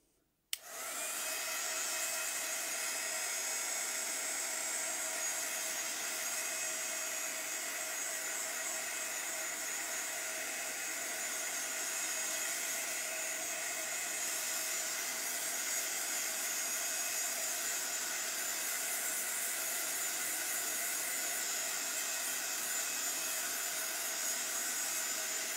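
A blow dryer runs steadily and loudly for about twenty-five seconds, drying layers on a craft project, a continuous airy roar that starts with a click and continues alone without talk.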